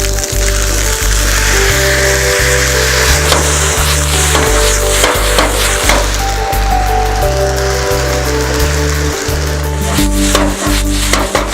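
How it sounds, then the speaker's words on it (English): Fish searing on a hot stone inside a Camp Chef oven gives a steady, close, broadband sizzle with scattered crackles and pops, set against a continuous low tonal hum that lasts throughout. "That heat coming from the stone and coming up around the top is just searing all that flavor into the fish"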